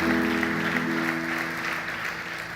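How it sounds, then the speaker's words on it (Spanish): A church congregation applauds during a Spanish-language sermon, a steady, loud wash of many hands clapping at once that slowly fades, with a sustained tone underneath. "Denle un aplauso al Señor de alabanza."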